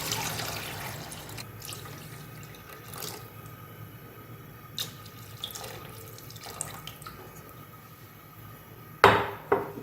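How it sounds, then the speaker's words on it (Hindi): Water is poured from a glass into a pot of browned chicken nihari cooking with spices, a soft continuous rush with a few clinks and a louder clatter near the end. "अब इसमें ऐड करेंगे हम पानी"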